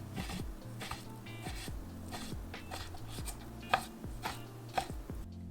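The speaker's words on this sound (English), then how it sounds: "And then I'm going to slice it into thin strips." A knife chops through flank steak into thin strips on a board, a rapid, fairly even series of soft close thuds continuing throughout, quiet and with no talk.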